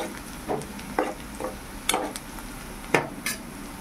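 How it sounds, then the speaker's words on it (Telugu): Food being stirred in a pan on the stove, with a soft sizzle under a series of spaced spoon scrapes and clinks against the pan, about one every half second. "మళ్ళీ కాసేపు కలుపుతూ ఉండాలి."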